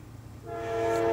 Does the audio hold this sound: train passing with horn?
yes